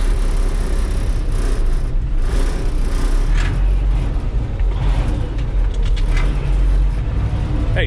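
An old Peterbilt truck cruises down the road with a steady low engine rumble and road noise, heard from inside the cab, with faint clunks and no clear talking.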